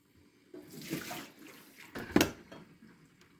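A Keurig Duo coffee maker dispenses water from its K-cup side during descaling, with short gurgling splashes and a sputtering burst near the end, fairly faint and with no talking.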